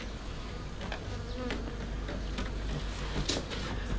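A calm swarm of African honey bees under a cupboard gives a soft, steady buzzing drone, with individual bees whining past up close, and no talk over it.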